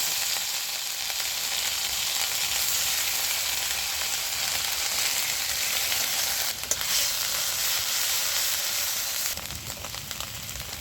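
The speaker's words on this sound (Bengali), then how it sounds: "এবার আমি দিয়ে দিচ্ছি পেঁয়াজ, রসুন আর আদা বাটা" Onion, garlic and ginger paste sizzles in hot mustard oil, a dense, steady hiss that stays loud and close throughout, easing slightly near the end, with no voices.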